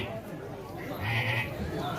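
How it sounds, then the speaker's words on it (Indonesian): A goat bleats in a brief, wavering call amid village chatter, fairly faint and mixed under people talking nearby. "Iya kambing muni."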